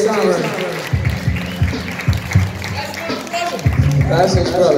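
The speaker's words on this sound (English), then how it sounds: "Give a round of applause for my man Jay Sauer." A live audience applauds at a jam session, clapping and cheering mixed with loud voices and shouting that dominate over the hand claps.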